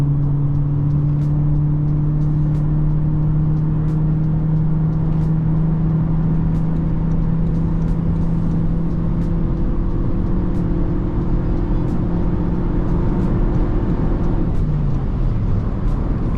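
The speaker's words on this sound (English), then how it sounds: "if you listen now, you can really hear how the CVT gearbox really screams" Toyota C-HR 1.8 hybrid with CVT gearbox accelerating in sport mode, a loud sustained droning engine whine holding steady pitch with faint ticking under road noise, then dropping off near the end.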